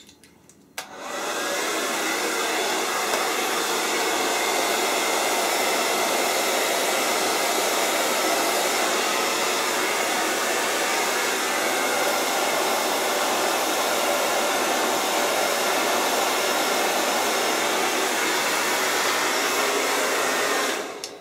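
A hair dryer roars steadily during a short-hair blow dry, starting abruptly after a brief click and running loud and unbroken to the end.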